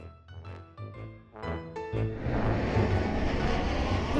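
Airplane engine rising from a quiet start into a loud, steady roar that fills the second half, preceded by a few tonal musical notes and nobody speaking.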